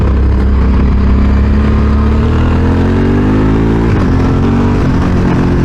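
An adventure motorcycle engine runs loud and close with its exhaust baffle removed, a steady deep throbbing drone that rises slightly in pitch and then dips near the end.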